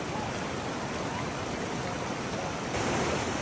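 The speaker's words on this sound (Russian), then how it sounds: "Конечно, мощь этой реки впечатляет." Powerful mountain river of icy clear water in the Saklikent gorge area of Turkey, a dense steady roar of rushing flow, close and loud throughout with no voices.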